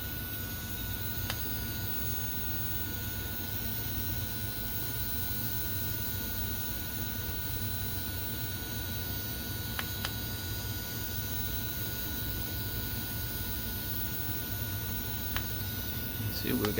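A Losi NASCAR RC car's standard electric motor spins at about 9,800 RPM on 3 volts, giving a steady high whine over constant hiss with a few faint clicks, unbroken for the whole stretch.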